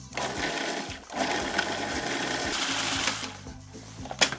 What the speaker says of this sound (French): Et on va mixer. D'accord? On mixe bien fortement.